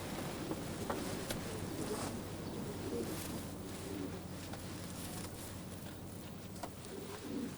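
A pigeon cooing in a loft, soft repeated coos over a low hum and light breeze, faint and somewhat distant with scattered small knocks.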